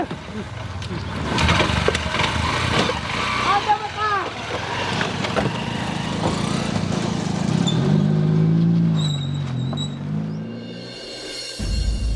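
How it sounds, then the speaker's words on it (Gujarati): A motorcycle engine runs steadily close by, its low rumble swelling and falling over about twelve seconds while people talk over it, before it cuts off abruptly near the end. "આ મોટરસાયકલ તો બાઠિયા બાપાના છોકરાનું જ છે"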